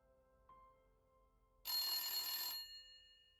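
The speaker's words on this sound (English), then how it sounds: "I think it's a phone. An old-timey phone by the sounds of it." A faint tone sounds first, then an old-fashioned telephone bell rings out in one loud, bright metallic burst of about a second before stopping abruptly.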